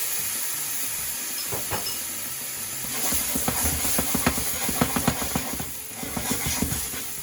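Liquid hissing and sizzling as juice deglazes a hot pan of Brussels sprouts, a steady hiss that swells about halfway through into crackling, popping spatters, close and moderately loud with no speech.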